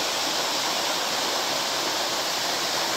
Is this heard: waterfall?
yes